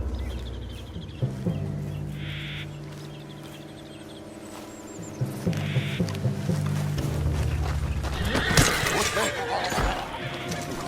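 A horse whinnies amid Red Dead Redemption 2 game sounds and a droning music bed, with people talking and louder clatter toward the end.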